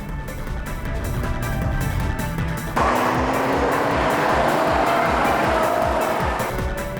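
Race cars battle on the Tsukuba circuit, German and Japanese sports cars including a four-wheel-drive car and a GT-R, engines droning loud and steady, then surging harder partway through as they accelerate down the back straight amid tire and wind noise.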